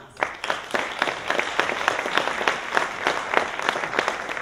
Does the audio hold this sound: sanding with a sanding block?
no